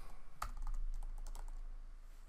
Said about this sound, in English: if I type Jason Messer,